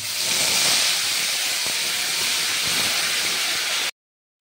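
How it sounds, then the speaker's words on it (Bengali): Fenugreek seeds sizzling in hot oil in a pan while cooking a katla fish curry, a loud, steady, close hiss that cuts off abruptly near the end. "মেথিটা একটু লাল করে একটু ভেজে নেবো"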